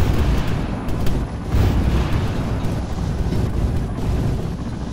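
Helicopter rocket run in the Exile video game: a dense, continuous barrage of loud booming impacts and roaring blasts that stays heavy and unbroken throughout.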